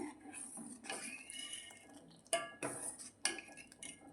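Close metallic scraping and clanking of a spoon stirring milk with dates, almonds and walnuts in a pot, with three sharp knocks against the rim among softer swishing strokes.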